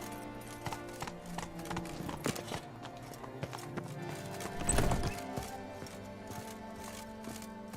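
Geralt's horse Roach gallops in The Witcher 3: Wild Hunt, with quick rhythmic hoofbeats running throughout, a brief whinny near the middle, and faint game ambience beneath.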